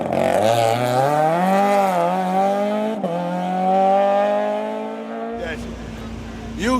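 An open Skoda rally car's engine drones and climbs through the revs on a West Cork Rally stage, heard close and loud, with a brief break near the middle before it settles into a steady lower hum.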